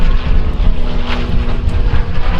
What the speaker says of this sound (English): There you go, beautiful sideways shot of P-40 Warhawk